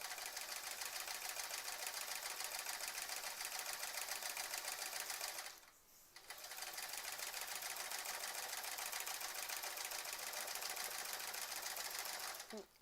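A sewing machine quilting a sampler quilt runs in a steady, fast, continuous stitching buzz, stopping briefly midway before resuming at the same even pace.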